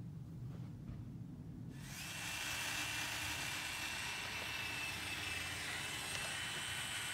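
A Traxxas TRX-4 RC truck drives in first gear, its faint electric motor rising into a steady, even whine and hiss after a quiet opening. No talk.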